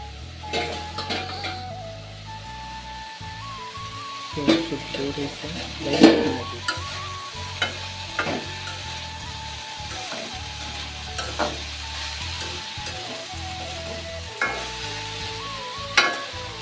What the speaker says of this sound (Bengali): সবজিটাকে নাড়তেছে